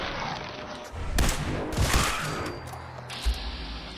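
Gunfire in the Fallout 4 video game, a few sharp bursts of shots and impacts over a background of game ambience and music, moderately loud, with no talking.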